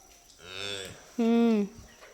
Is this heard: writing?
no